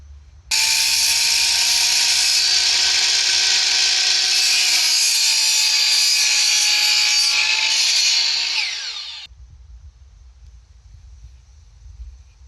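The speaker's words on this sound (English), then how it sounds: "I'm using a battery operated DeWalt finish nailer with 2-inch nails to install the baseboard." A battery-powered DeWalt finish nailer driving 2-inch nails into baseboard, heard as a loud, continuous mechanical whirring and clattering burst of about eight seconds that cuts off abruptly into quiet room tone.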